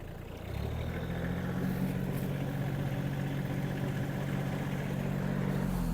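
An Iseki Geas 30 mini tractor engine idles with a low, steady rumble, close by and constant, starting slightly quieter for the first half second.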